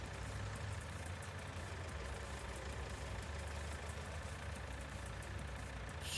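A tractor engine idles steadily in Farming Simulator 19, a low continuous rumble with a faint hum running evenly throughout, no voices present.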